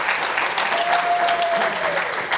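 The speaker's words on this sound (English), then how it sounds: "I thought you will clap hands for that." An audience claps steadily throughout at a gathering on African traditional leadership, law and democracy, the applause dense and sustained with a faint tone drifting across the middle.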